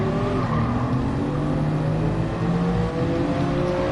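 A Mercedes F1 race car in a racing video game at the Catalunya circuit: a high, steady engine whine with shifting pitch under a dense roar, loud and continuous, with no talking.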